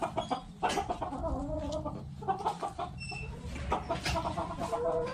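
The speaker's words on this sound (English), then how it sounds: "H for hen, H for hen." Hen clucking over a busy background of farmyard bird calls, steady and close throughout a children's alphabet nursery rhyme, with no talking.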